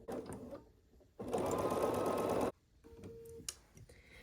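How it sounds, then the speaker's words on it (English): A sewing machine stitches a quilt block along the diagonal, running in one loud, steady burst of about a second and a half. Quieter handling sounds come before and after it. "Then we're going to sew again from this top corner to this bottom corner on the diagonal."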